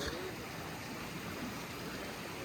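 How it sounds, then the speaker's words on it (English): Small creek running beside a campsite on the Colorado Trail, a soft, steady rush of flowing water without breaks, fairly quiet and close. "Really nice little creek."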